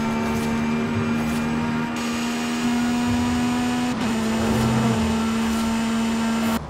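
Aston Martin Valhalla engine in Forza Horizon 5 pulling hard under acceleration, a steady high whining drone with a brief dip partway through as the gear shifts, then a steady climb again.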